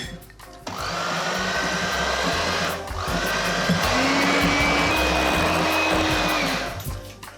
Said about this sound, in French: je vais continuer à battre avec le fouet en réduisant un peu la vitesse pour pas trop casser la crème